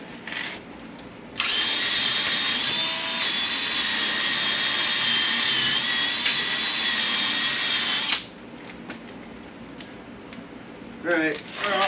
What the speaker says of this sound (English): time to break out the old wire wheel